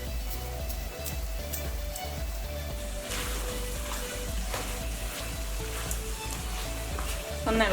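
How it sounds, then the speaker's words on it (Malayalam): Masala chicken sizzles steadily in a hot pan while being stirred, a close, continuous crackle with faint scraping touches throughout. "ഒന്ന് ഇളക്കി കൊടുത്തിട്ടുണ്ട്."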